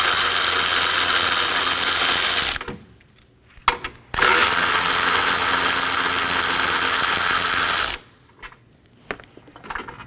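Two long bursts of a loud, high-revving power tool or impact gun backing out the pair of 10mm hood latch bolts on a 2018-2024 Chevrolet Equinox, with short rattling gaps between runs.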